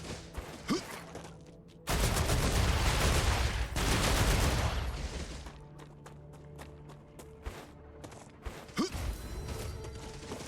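Gunfire from the video game StarRupture: a dense, roaring volley of shots lasting a couple of seconds, then scattered sharp single reports and mechanical clicks over a quieter game backdrop.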